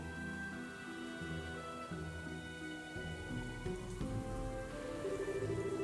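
Steady rain falls in a scene from the video game Legend of Heroes: Trails in the Sky the 3rd, a soft continuous patter mixed under sustained background music.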